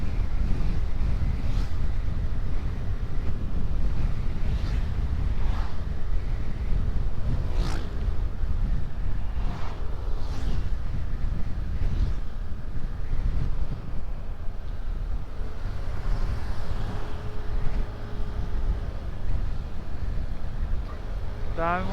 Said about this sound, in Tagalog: Ang hangin, grabe.